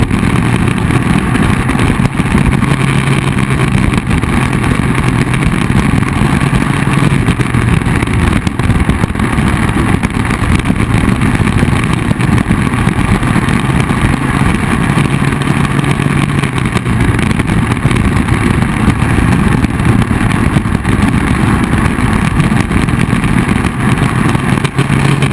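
A Club 100 cadet lightweight racing kart engine drones loudly and steadily at high revs along a straight at Whilton Mill, heard up close from the kart with no break and no talk.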